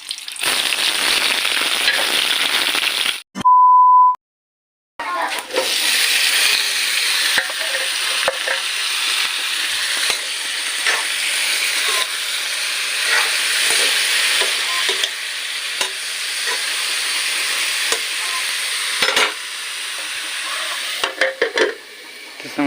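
Onion frying in hot oil for a bhatta aloo and bari dish, a loud continuous crackling sizzle close up with occasional stirring scrapes and pops, after a short pause early on.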